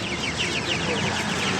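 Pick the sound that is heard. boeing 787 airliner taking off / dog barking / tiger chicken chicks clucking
tiger chicken chicks clucking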